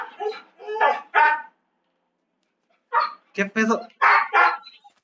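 A dog barks in sharp bursts, two quick runs early and another cluster later, with a gap of silence between, close and loud, mixed with a person speaking.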